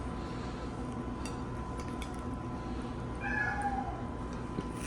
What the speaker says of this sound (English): My cat's back there. He won't give us a break.